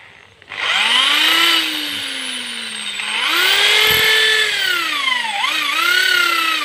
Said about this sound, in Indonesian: sebelum itu perlu dibuat lubang untuk dimasukkan skru nanti.